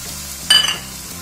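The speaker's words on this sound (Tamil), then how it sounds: "பூண்டும் சேர்த்துடலாம். சேர்த்து வதக்கிக்கலாங்க." Garlic sautéing in a pan gives an even, close sizzle, interrupted midway by a brief clink or scrape of a utensil against the pan.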